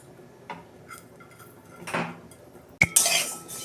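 Moong dal dry-roasting in a pan for a fish-head dal, heard as sparse clinks and scrapes of a spoon against metal, building to a sharper, louder burst of rattling and scraping near the end; no talking.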